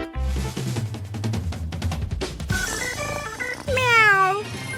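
A cat meows several times in quick succession among clattering kitchen noises from a cake-baking food challenge, the later cries rising and drawn out.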